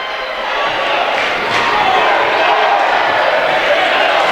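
Crowd noise at a Heartland Conference semifinal basketball game, a dense roar that swells steadily louder across the clip and stays loud throughout.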